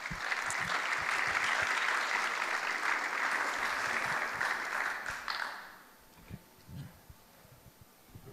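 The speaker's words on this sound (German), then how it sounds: "einen herzlichen Applaus für euch beide" Hearty audience applause welcoming two guests at a talk event, dense clapping for about five seconds that then cuts off, leaving faint room noise and a few small knocks.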